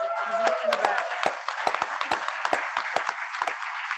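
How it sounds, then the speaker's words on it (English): Members of a Kiwanis club in Roanoke clap for Amy at an installation dinner, a scattered, moderate round of individual claps with a voice talking over part of it. "we're all now going to give you a round of applause"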